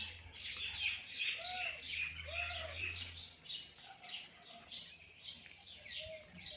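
Escaped pet bird chirping and tweeting on a cold, foggy rooftop, a run of bright repeated chirps close by with a few lower coo-like calls, alone without talk.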